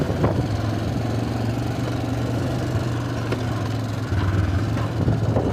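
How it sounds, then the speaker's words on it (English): A Honda Foreman 400 ATV engine drones loudly and close at a steady pitch, then the note shifts as it changes up a gear, with faint clicks over the running motor and no talk. "change up, fifth gear"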